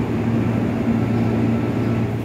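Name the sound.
Pangrango train arriving at Manggarai station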